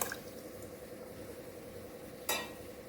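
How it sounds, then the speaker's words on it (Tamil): Dissolved tamarind water is poured into a Koduva fish curry in a clay pot, making a faint, steady trickle with a soft sizzling edge and one brief louder splash near the end. "புளியை ஒரு 3-4 டைம்ஸ் நான் நல்லா கரைச்சி அது உள்ளே ஊற்றிடுறேன்."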